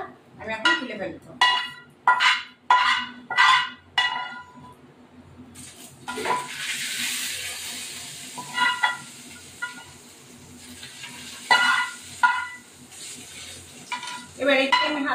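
A rohu fish fries in oil in a kitchen pan, with a steady sizzle beneath repeated metallic clatters and scrapes of a ladle against the pot, up close and without talk.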